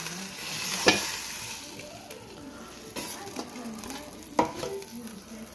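A steak freshly pulled from an air fryer sizzles and spits steadily up close, with a few sharp clicks and metallic scrapes of handling around it and no talking.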